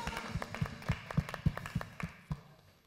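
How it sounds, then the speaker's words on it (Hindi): Audience applause on a Pakistani comedy stage show: a run of about a dozen evenly spaced, sharp claps, fairly close and moderately loud, fading away near the end with no talking. "तालियां"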